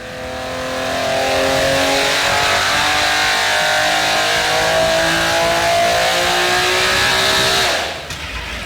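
A loud, high-pitched Nilu 27 V12 engine revs hard on a dyno toward 11,000 RPM and holds at a screaming pitch for several seconds, then cuts off abruptly.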